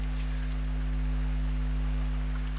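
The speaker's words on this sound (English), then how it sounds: "Can you hear the rain? It's absolutely bucketing it down." Heavy rain pours down in a steady, dense hiss with a constant low hum beneath it, continuous and unbroken throughout.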